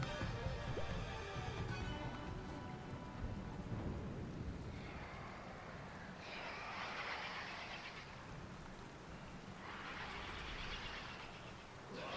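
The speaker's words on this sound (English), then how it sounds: "Ah, great, it's raining." Steady rain in the video game Tears of the Kingdom, with low rumbling in the background, broad and enveloping, swelling in intensity a couple of times.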